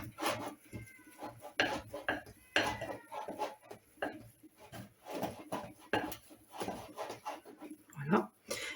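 Chocolate crinkle dough being mixed in a bowl, with irregular clinks and scrapes of a utensil against the bowl, fairly quiet and close, with bits of speech in between.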